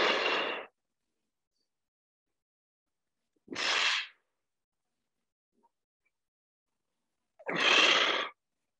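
Three heavy, forceful breaths during a plyometric bootcamp workout, each a loud, close burst of about half a second separated by several seconds of silence.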